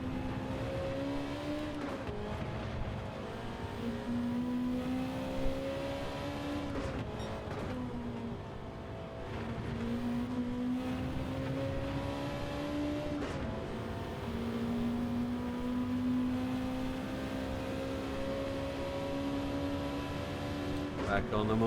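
Engine of a 1992 Honda NSX with an engine swap, racing at Le Mans in Gran Turismo 7, a steady high-pitched drone that climbs through the gears with brief dips at shifts, under continuous commentary.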